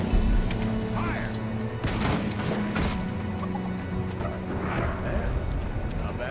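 A volley of gunfire rings out on command in Guild Wars 2, with several sharp shots bunched together over a steady battle bed that also carries hoofbeats and low rumble throughout.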